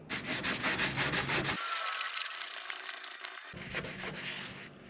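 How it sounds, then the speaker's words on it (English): Rhythmic rubbing of a soaked rag scrubbing adhesive tape off the body of a Saturn Sky roadster, steady back-and-forth strokes up close, with a smoother hissing stretch in the middle. "Through the repeated process of soaking and scrubbing, I got most of that tape off."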